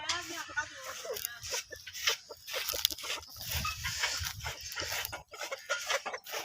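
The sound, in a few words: chicken chicks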